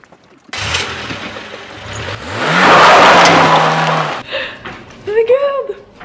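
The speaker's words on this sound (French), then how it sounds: "J'ai pris la voiture 306 édition Safari" Peugeot 306 Safari edition car in a video game, engine revving up loudly to a sustained drone and accelerating, with tire noise, then cutting off into chirpy game sounds; a voice talks over parts of it.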